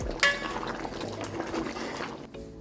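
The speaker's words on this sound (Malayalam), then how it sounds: "നമ്മുടെ ബീഫുകൾ ഇത് നന്നായിട്ട് തിളയ്ക്കുന്നു" Beef curry bubbling in a pot, a soft, steady simmer with a brief louder splash or clink near the start, quiet and close.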